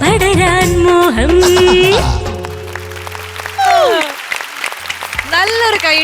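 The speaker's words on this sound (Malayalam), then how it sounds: "നല്ലൊരു കൈയടി നമുക്ക് കൊടുക്കാം" Stage audience applause for two singers after a Malayalam film-song duet, clapping mixed with sustained music and vocal tones, loud at first, dipping midway and swelling again near the end.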